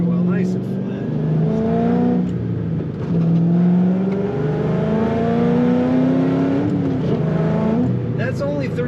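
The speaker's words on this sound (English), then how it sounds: "let's get some more throttle sound" A 2006 Ford Mustang GT fitted with a Kenne Bell supercharger accelerates under throttle, its loud engine note climbing steadily in pitch through several rising sweeps, heard up close from inside the car with no talk over it.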